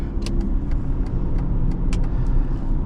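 A 2011 Aston Martin Rapide with a naturally aspirated V12 cruises along, its engine a steady low drone heard from inside the car alongside road noise, with faint intermittent ticks and no talk.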